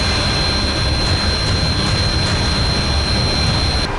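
A fighter jet of the Indian Air Force flies at night near a forward air base, a steady, loud, continuous roar with a deep low rumble and a thin high whine that holds unchanged throughout, with no voices.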